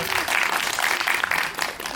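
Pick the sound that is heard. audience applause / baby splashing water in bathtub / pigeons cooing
audience applause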